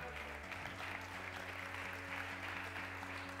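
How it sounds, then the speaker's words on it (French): Applause for a speaker at an e-commerce awards ceremony, soft and distant clapping from the audience over a steady low musical drone with pulsing tones. "Un tonnerre d'applaudissements pour Pascal."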